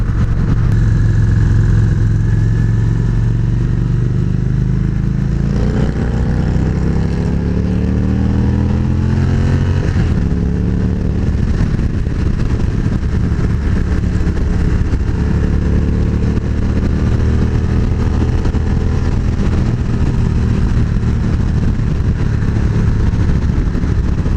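A Victory Magnum motorcycle cruises down the highway, its engine droning steadily and loud close by, with shifting pitch as it accelerates and wind rush throughout; no one speaks.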